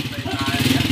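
A TMX155 motorcycle on a road test putters close by, its single-cylinder engine beating in a quick, even pulse that grows a little louder toward the end, with voices in the background.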